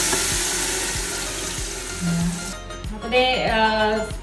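Shallots and green chilies sauté in hot oil with a steady sizzle, a spoon scraping and stirring at intervals, and water running near the end.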